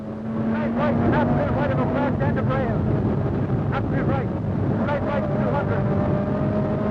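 A 270 bhp Opel Manta rally car tears along at high speed on a 1986 Donegal rally stage above Loch Swilly, its engine droning loud and steady with shifting pitch through gear changes, buffeted by heavy wind noise and overlaid with commentary.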